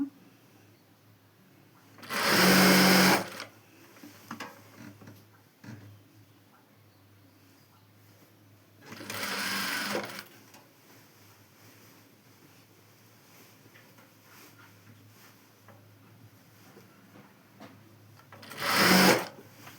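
A sewing machine stitching a long frock runs in three short bursts of rapid mechanical whirring, each a second or so, separated by quiet gaps with faint handling noises and light talk.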